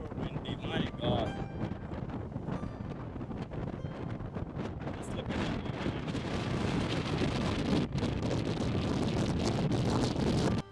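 Strong wind roars and buffets the microphone at the exit side of Sigiriya rock in Sri Lanka, a loud continuous rush filling the whole stretch while a person speaks briefly.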